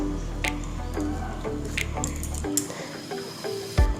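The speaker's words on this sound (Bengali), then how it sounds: "তার জন্য আমি প্রথমে টক দইটা দিয়ে দিচ্ছি।" Sour yogurt is spooned over raw chicken for a marinade, giving a few close, wet squelches and soft plops with faint drips in between.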